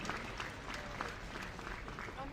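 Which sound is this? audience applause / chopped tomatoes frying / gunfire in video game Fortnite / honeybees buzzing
audience applause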